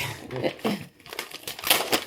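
Wrapping paper printed with dogs crinkles and tears as a birthday present is opened at home, a close run of bursty rustling and crackling that rises and falls over about two seconds, with voices talking around it.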